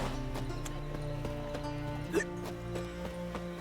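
Steady clip-clopping horse hoofbeats in The Witcher 3 game, over a droning musical background with a brief whinny-like cry, all fairly quiet.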